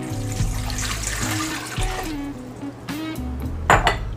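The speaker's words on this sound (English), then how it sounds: "4 cups cold water." Cold water being poured for a quick brine for huli huli chicken, a steady splashing, trickling pour heard close up alongside a few clinks of a pot or dish, with no talking.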